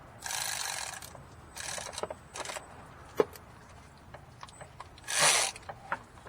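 A ratchet snugging thin thermostat housing bolts on a Ford F250 with a 6.2 litre engine, bursts of rapid clicking near the engine with scattered metallic clanks and a louder final run of clicks.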